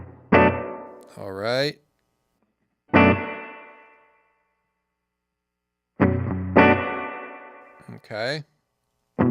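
Guitar chords played through a Ventris Dual Reverb pedal set to a medium spring reverb, strummed in short bursts with wobbling, warbly tails and springy decay, bright and close, with someone briefly speaking between the strums.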